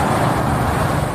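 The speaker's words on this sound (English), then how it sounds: "A tow truck carries the torched hull of an RV." Steady road noise from a tow truck hauling the torched hull of a burned RV, a continuous mid-level rumble and hiss of passing traffic with no break.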